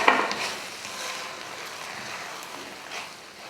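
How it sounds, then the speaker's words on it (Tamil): Tomato rice being stirred in a pan, a faint, continuous soft scraping and shuffling that stays low and even throughout. "அவ்வளோதான், சாதம் கிளறியாச்சு"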